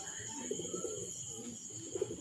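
A domestic pigeon coos near its coop in a few soft, rolling calls, with a faint steady hiss in the background and no one speaking.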